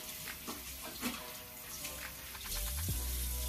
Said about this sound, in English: just wash your hands before you wash your face